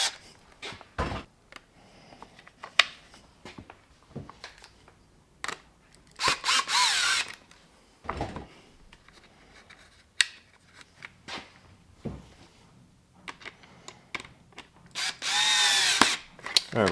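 Power driver backing Phillips #2 screws out of an Aprilia 660 rear seat cowl, several short whirring bursts scattered between quieter handling clatter, with two longer runs near the end.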